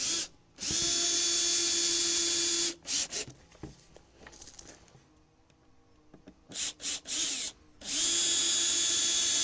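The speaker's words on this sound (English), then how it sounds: "Now, a couple of screws to hold that in position." A power drill drives screws into a wooden planter during assembly, giving two long, loud whirring bursts separated by rattling and handling noises, then a few short trigger pulses before a final sustained run.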